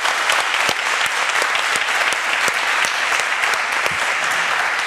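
A studio audience at a Gabonese TV quiz show applauds loudly and continuously, a thick wash of clapping with a few sharper individual claps standing out.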